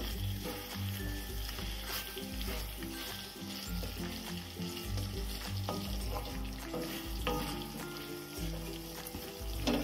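Fried katla fish is stirred into a red spice masala in a pan, giving a steady sizzle and soft scraping that runs the whole time under a continuous tonal musical background.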